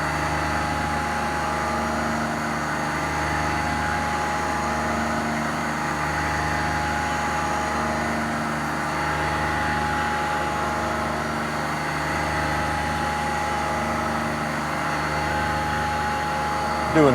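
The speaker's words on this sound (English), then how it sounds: "Just doing a spiral helix in, rough the bore." CNC tool grinder on a Star STG roughing a bore with a spiral helix at 1500 RPM and 45 inches per minute feed, 0.030-inch helix pitch: a steady, loud machine drone with fixed tonal whine running unbroken throughout.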